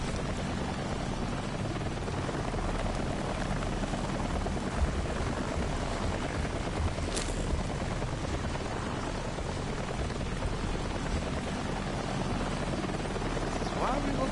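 A helicopter in the video game Daymare 1998 flies off, its rotor giving a steady, dense roar that fills the whole stretch without letting up.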